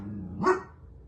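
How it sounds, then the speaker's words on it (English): A single short bark from a dog nearby, one moderately loud yap over a quiet room background. "Why are you barking?"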